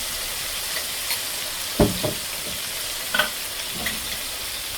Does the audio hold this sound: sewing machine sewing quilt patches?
no